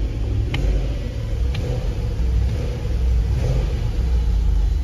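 A BMW X5 4.6is V8 engine running rough, a loud close rumbling idle with uneven pulses and brief revs, no talking over it.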